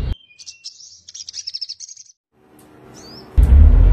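A sogok ontong songbird sings a run of bright, rapid chirps and warbling phrases for about two seconds, close and clear, before a short pause and then a louder burst of rumbling noise.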